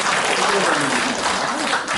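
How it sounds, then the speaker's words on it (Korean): Audience applause for a university professor's lecture at a civic forum on Gumi's economy, a steady, dense wash of clapping filling the hall with faint voices mixed in. "큰 박수를 다시 한번 부탁드리겠습니다"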